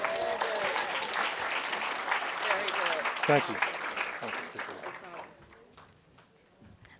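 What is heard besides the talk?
audience applause at a conference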